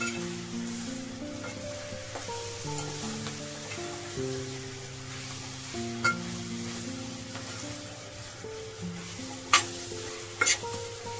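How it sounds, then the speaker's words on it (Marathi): Finely chopped onion fries in a pan for a chicken bhuna, a low, steady sizzle under repeated stirring with occasional sharp clinks of a spoon against the pan, with musical tones playing faintly beneath. "कांदा भाजायला टाइम लागतो."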